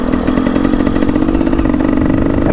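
A motocross dirt bike engine revving hard at a dirt park, a loud, close, continuous buzzing roar with a fast rattling pulse that holds steady throughout, no talking.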